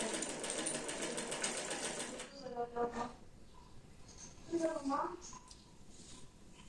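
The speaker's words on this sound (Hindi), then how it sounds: "यहाँ तक सीधी सिलाई लगा के फिर बताती हूँ।" A sewing machine runs steadily for about two seconds while stitching the side slit and hem of a shirt, then stops, leaving a voice talking over quieter handling sounds.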